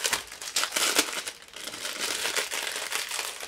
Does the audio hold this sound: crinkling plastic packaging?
yes